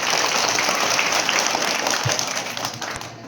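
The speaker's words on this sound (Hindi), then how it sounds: "अपने लिए तालियां बजा दीजिए।" Schoolchildren clap together in a burst of applause during a school anti-drug awareness session, loud and dense at first and then thinning out near the end.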